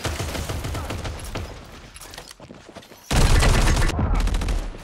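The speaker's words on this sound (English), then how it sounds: "Turret in action." A turret in the Modern Strike Online shooter game fires in loud, dense rapid bursts, with the gunfire growing heavier and more intense partway through.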